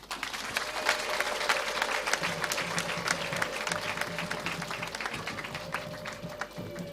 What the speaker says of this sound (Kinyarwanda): ni mu ntiza amashyi n'impundu dushimira abepiskopi bacu